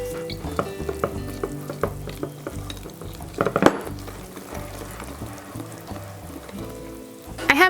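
Sloppy joe mixture being stirred, with wet, sloppy scraping and sloshing that runs in a steady rhythm. A sharper clatter comes near the middle and another at the end.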